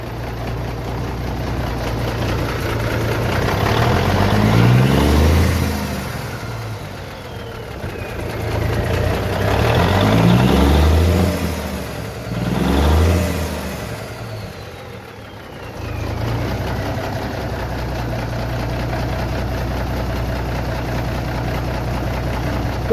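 A truck engine idles steadily after a fuel pump repair, a low rumbling drone with a few brief surges in revs partway through, running close by with no talk.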